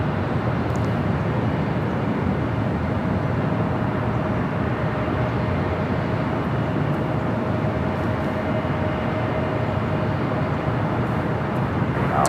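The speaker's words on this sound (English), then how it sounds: "Spirit heading to Vegas, A320 in the birthday cake livery" A Spirit Airlines Airbus A320 departs LAX bound for Las Vegas, its jet roar a dense, constant, fairly loud wash that holds steady from start to finish with no voices over it.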